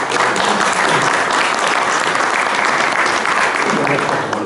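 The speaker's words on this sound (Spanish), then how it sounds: "Fuerte el aplauso para él." A panel audience at a debate on freedom versus censorship gives a speaker a loud round of applause, thick and continuous clapping from many hands that holds steady from start to finish.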